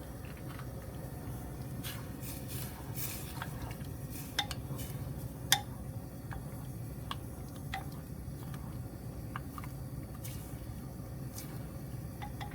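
A spoon stirs sundubu jjigae (soft tofu stew) in a pot with scattered soft clinks and taps of metal against the pot over a faint low background, no talking.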